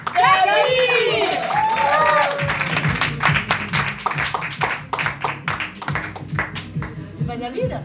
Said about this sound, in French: Allez, applaudissements pour Camille.